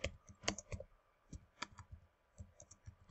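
Typing on a computer keyboard, a quick irregular run of sharp, close clicks and key taps over about three seconds, with no voices.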